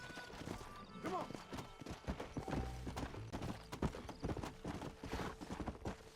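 Horse hooves clip-clopping in the Western video game Red Dead Redemption, a brisk rhythmic trot of close, clattering hoofbeats running under game music and brief voices.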